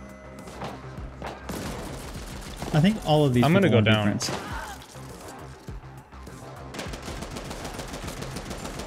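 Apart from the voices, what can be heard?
gunfire and explosions in the video game The Ascent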